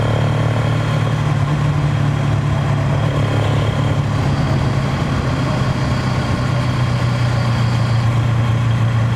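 A 2026 Bajaj Pulsar NS200 motorcycle engine runs steadily up close, a constant low throbbing drone with a loud even exhaust note and no voices.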